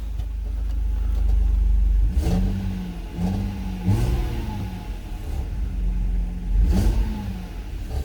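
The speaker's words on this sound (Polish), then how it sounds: "Silniczek żwawy zbiera się." A BMW X1's engine revs up in several quick bursts, each rising pitch then falling back to a steady idle rumble, close and fairly loud with no voices.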